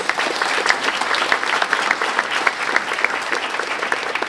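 A crowd applauds at a graduation ceremony with dense, steady clapping that holds at an even level throughout, loud and close, with no voices.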